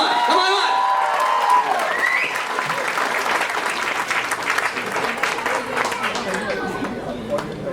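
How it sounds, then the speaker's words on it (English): A comedy festival crowd in a large hall breaks into sustained applause with cheering and whistles, a dense continuous roar of clapping that holds steady throughout with crowd voices mixed in. "Give one round of applause, guys, for Muslims for Peace"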